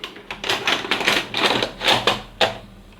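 A Samsung SE9000 or Sharp VC-M35 VHS VCR mechanism takes in a tape with a run of close, sharp mechanical clicks and clatters, ending in a distinct firm clunk.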